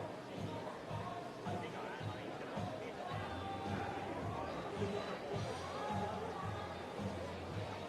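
Steady indoor crowd murmur and babble at a Tuesday night darts league broadcast, a packed hall filling every seat, continuous and moderately loud under commentary voices.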